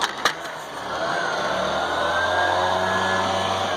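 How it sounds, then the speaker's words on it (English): A blower running nearby beside a 1988 National Dolphin 34-foot Class A RV, a steady whirring drone that starts after a couple of brief knocks and holds at an even, moderately loud level. "you got the dang blower"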